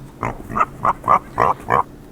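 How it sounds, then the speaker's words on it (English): A demon pig grunts six times in a steady rhythm, loud and close, with nothing else behind it. "it's a demon pig, it works differently"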